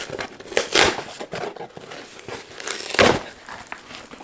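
Crinkling and tearing of plastic packaging up close, in several quick bursts with brief pauses between them.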